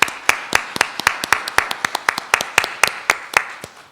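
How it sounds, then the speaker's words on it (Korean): Several people clap together in a steady, brisk rhythm during a church Sunday service, a short burst of applause with no talking. "감사의 박수 한번 하겠습니다"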